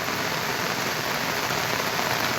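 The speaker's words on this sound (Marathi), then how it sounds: "खूप जोरात म्हणजे खूप भयानक पाऊस लागतो आज" Heavy monsoon rain pours down in the Konkan region, a steady dense roar of drops hitting surfaces, loud and unbroken, with no voices.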